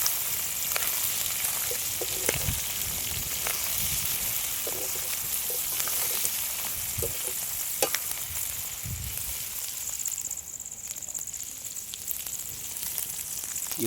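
Ghee chicken sukka (Madurai Manapatti style) with crushed garlic and dried red chillies sizzles steadily in a pan, a constant loud frying hiss with occasional stirring scrapes and clicks of the spoon throughout.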